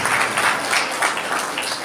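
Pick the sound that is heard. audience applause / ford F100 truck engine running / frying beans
audience applause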